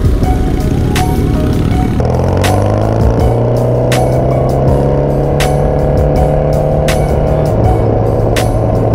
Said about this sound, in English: Bagger right there, the R18 bagger, giving it some beans at a light